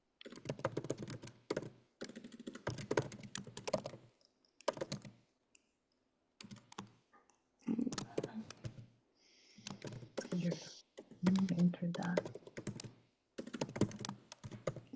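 Typing on a computer keyboard at a PTA general meeting: bursts of quick, fairly close key clicks come in short runs with pauses, under and between a person's talk.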